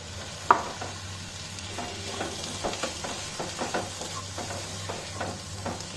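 Chopped tomatoes and a pinch of asafoetida cooking in a pan for Rajasthani panchmel dal, with a soft steady sizzle and repeated scraping stir strokes close by, no talking.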